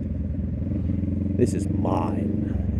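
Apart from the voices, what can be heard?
Honda CB650 motorcycle riding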